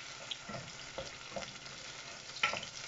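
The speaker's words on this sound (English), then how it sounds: "you're gonna cook your red onions or your white onions until it's transparent" Red or white onions sizzle and fry softly in a pan while being stirred, a steady low crackle with a few brief clinks of the utensil, no voices.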